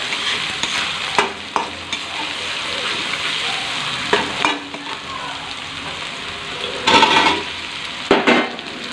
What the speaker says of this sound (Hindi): तापर पियाज कंचा लंका काटी मिक्स करी भाजवा।